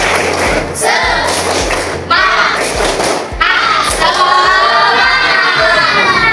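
A group at a coding and artificial intelligence training session performs the 'tepuk semangat' chant, with loud rhythmic clapping and thumps breaking into shouted voices in bursts.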